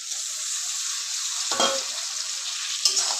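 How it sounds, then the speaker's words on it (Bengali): Potato and pointed gourd pieces fry with spices for a rohu fish curry, giving a steady close sizzle throughout, broken by a couple of brief scraping stirs of the spatula. "এবার আলু পটলগুলো দিয়ে আবার কষিয়ে নেব"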